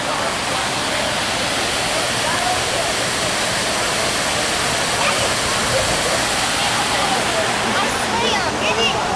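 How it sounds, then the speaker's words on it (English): A hotel pool waterfall at the Hyatt Sarasota pours in a loud, steady, close hiss of splashing water, with faint voices briefly audible near the end. "I'm gonna go to the waterfall."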